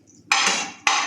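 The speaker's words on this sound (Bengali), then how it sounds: "এখন ওগুলারে ছেঁচবো।" Fried onions get pounded with two sharp thuds in quick succession, each followed by a brief ringing decay, close and fairly loud.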